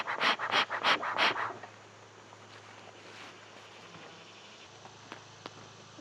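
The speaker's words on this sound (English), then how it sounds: "got my smoker going, puff it up a little bit" A beehive smoker's bellows gives four or five quick, rhythmic puffs close by, each a breathy whoosh, then falls quiet into faint outdoor background hiss with a few small ticks.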